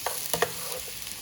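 Broccoli and squash stir-fry in a pan or electric skillet, a soft sizzle with a few quick scraping stirs and taps of a utensil, close and brief.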